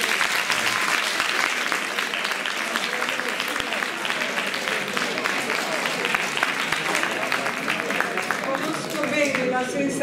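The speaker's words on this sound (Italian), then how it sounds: "per favore un applauso." Sustained audience applause at a Turin public event welcoming 91 female students, steady dense clapping throughout with a faint murmur of voices underneath, fading slightly near the end.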